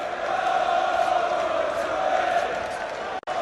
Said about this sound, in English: Well, the crowd are singing, Nick, they're happy with it